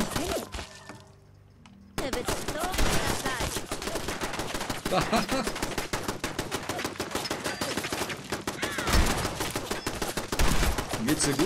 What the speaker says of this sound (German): Beim Kochen werden wir angeschossen.